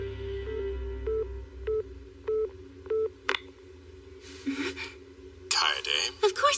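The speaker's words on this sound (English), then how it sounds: "Of course now you choose to pick up the phone." A telephone call sounds out a sequence of short, evenly spaced dialing tones, then a click and noisy bursts, like a busy signal, with a voice speaking.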